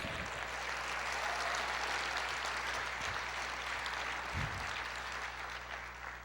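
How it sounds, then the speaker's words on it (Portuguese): Congregation applause at a Portuguese-language evangelical church service fills the whole stretch as a steady, fairly loud wash of many hands clapping, with no talk over it. "Aplauda o Senhor."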